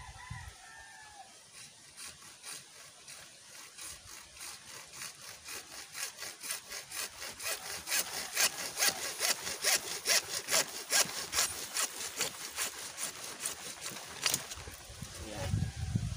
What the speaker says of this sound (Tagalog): So yan guys, natapos na nating putulin at nalinis na natin yung mga pinaglagarian.